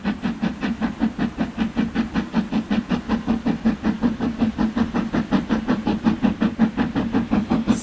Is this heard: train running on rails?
yes